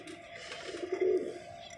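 Soft, low cooing from pigeons close by, a short murmuring call rising briefly in the middle.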